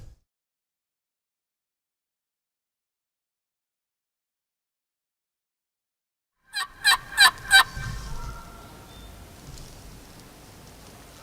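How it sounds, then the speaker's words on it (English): Wild turkeys gobble in a quick burst of four sharp calls after a long silence, then softer rustling and scuffling from the birds follows, fairly distant in open country. "There's 4 or 5 turkeys out"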